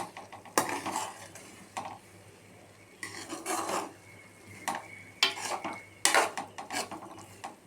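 A spoon stirs cooked samba rava upma in a metal pot on the stove, giving a few separate bursts of scraping and clinking against the pot with faint sizzling between strokes, close up and without talking.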